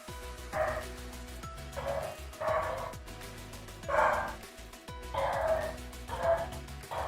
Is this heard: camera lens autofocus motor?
no